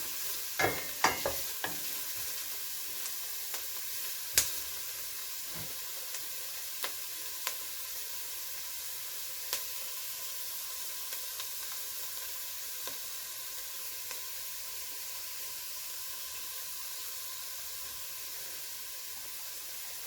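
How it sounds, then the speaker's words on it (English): Continuous bright hiss of food sizzling in hot oil, with occasional pops and crackles scattered through, close and steady throughout. "So this is frying up nicely at this point."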